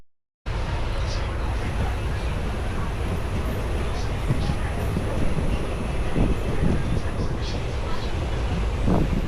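A train arriving at Badami station on the journey from Hampi rolls past with a steady, loud rumble and clatter, while a person talks over it.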